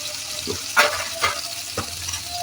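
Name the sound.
onions with salt frying in a pan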